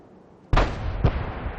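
Tank cannon fire in World of Tanks: a sudden heavy boom, with a second, softer blast half a second later and a rumbling tail after both.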